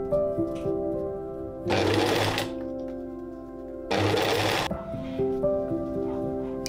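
A sewing machine stitches boning onto a 19th-century Regency stays-inspired dress in two loud whirring runs of about a second each, separated by a quieter pause with a low background hum.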